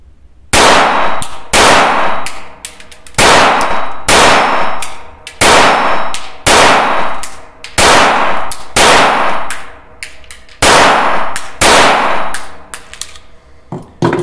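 Shots from a High Standard 106 .22 pistol fired quickly and hard in a row, each crack sharp and ringing with a metallic clang, arriving in quick pairs and short bursts, close and loud with no talk.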